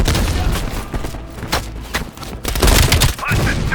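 Heavy machine gun fire in the Black Ops Cold War game, a loud continuous barrage of rapid shots and booming impacts with dense, layered blasts across the whole stretch.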